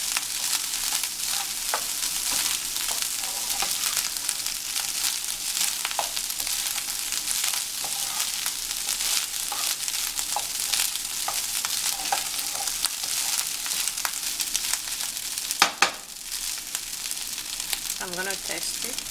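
Nigerian party fried rice sizzles steadily in a pan as a spoon stirs it, with a constant close frying hiss and repeated scraping strokes, one louder clatter near the end.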